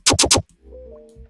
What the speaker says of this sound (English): it's basically the main kick that I have warped a bit, pitched it up, and processed it with heavy distortion,